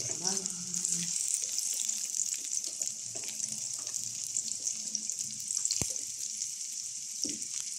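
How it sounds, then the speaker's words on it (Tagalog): Pechay greens sautéing in cooking oil for a Filipino ginisang pechay with sardines, giving a steady bright sizzle throughout with occasional stirring clatter and a brief soft voice near the start. "magluluto rin tayo ng ginisang pechay"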